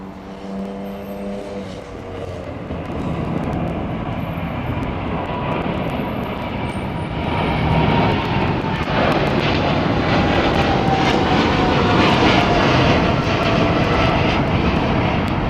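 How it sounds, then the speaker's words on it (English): A Boeing Dreamliner jet takes off at Heathrow, its engine roar building from a moderate rumble to a loud, sustained broadband blast that swells toward the end, heard at some distance with no talking. "that's a long run for this Dreamliner"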